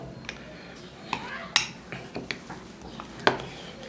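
Corn groundbait for fishing being stirred in a bowl: scattered clinks and scrapes of a utensil against the bowl, irregular and fairly close, over a quiet background.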